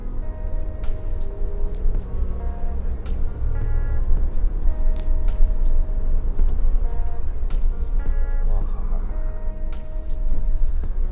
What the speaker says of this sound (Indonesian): Kita coba akselerasi ya.